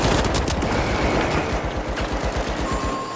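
Hip-fired weapon in the video game The Finals, a loud rapid burst of automatic gunfire with evenly spaced shots, close and continuous for about three seconds with no talk over it.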